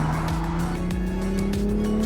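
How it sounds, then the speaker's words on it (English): A 2023 Toyota GR Supra with a manual gearbox and 382-horsepower inline-six driven on a track, engine droning loud and steady with rising revs while tires hum underneath, heard close from inside the car. "2023 Supra manual, inline 6, 382 horsepower."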